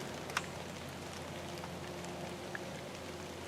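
Steady rain falling outdoors, a soft even hiss with a couple of sharper drips, faint and continuous with no voices.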